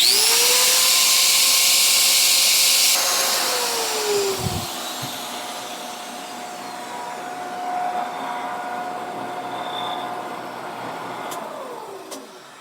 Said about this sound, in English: now here's the DeWalt drill